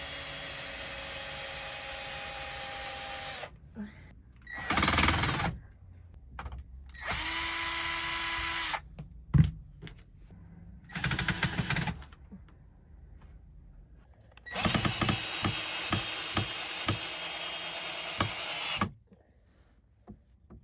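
A power drill pre-drills screw holes in wood during RV repairs, sounding in several loud whirring bursts of a few seconds each, with quieter pauses and clunks between them.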